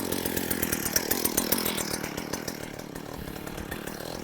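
A STIHL Kombisystem gas engine runs close by just after a pull start, a loud, buzzing two-stroke rattle with rapid pulses that eases slightly toward a steady idle.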